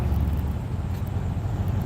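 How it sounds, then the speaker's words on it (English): Steady road traffic rumbles from inside a delivery truck on the road, a continuous low engine and tyre drone with no voices heard. "Listen, even in traffic,"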